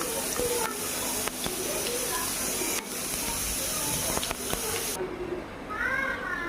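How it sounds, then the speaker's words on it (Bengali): Panch phoron five-spice poured into hot oil for motor ghugni, producing a continuous loud sizzling hiss that runs for several seconds, with faint clinks, before cutting away to quieter sound. "প্রথম পাঁচফোড়ন ঢেলে দিলাম"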